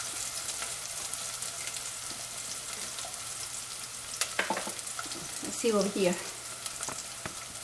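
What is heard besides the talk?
onions frying in a pan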